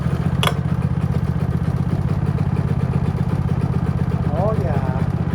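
A portable generator runs at a steady, close engine drone, with a brief sharp sound near the start and faint voices under the hum.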